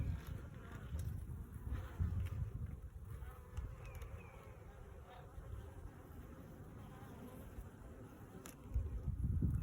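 Honeybees swarm and buzz in a steady, close drone from an opened hive during an inspection as frames are shifted, with low handling rumbles and occasional wind bumps, and no talking.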